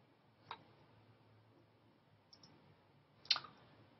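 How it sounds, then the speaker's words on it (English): A computer mouse clicks on a web link: a few quiet, isolated clicks, the last one sharpest, in a near-silent room. "double clicking on it will open it up automatically in a new tab"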